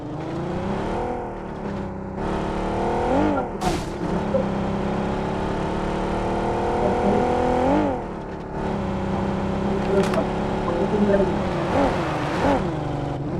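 A car in the PUBG battle royale game is driven and revved, its engine droning steadily with repeated swells and dips in pitch as it accelerates and shifts, close and fairly loud.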